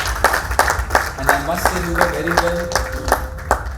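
Audience clapping at an IMA foundation day event in a hall, heard as a run of sharp, evenly spaced claps under someone speaking into a microphone, with a steady tone sustained near the end.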